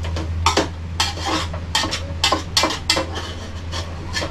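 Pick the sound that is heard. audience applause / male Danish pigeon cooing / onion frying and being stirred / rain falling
onion frying and being stirred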